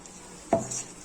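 A spoon stirs green coriander into a pot of kofta curry, making one brief clank and scrape against the pan amid quiet surroundings.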